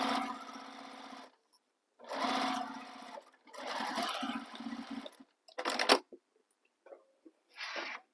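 A sewing machine stitches a bag opening closed in several close, steady runs of a few seconds each, separated by brief pauses and a couple of short bursts near the end.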